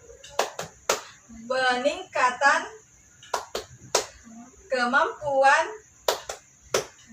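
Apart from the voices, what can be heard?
rhythmic group clapping chant, tepuk P2K2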